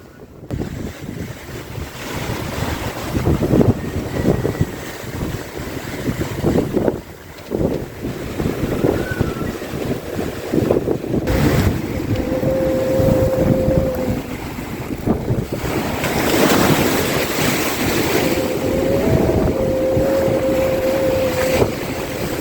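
A sailboat runs at sea in winds gusting near 39 knots with 4-metre waves: a loud, continuous roar of wind and rushing water washing past the hull, with faint whistling tones rising now and then.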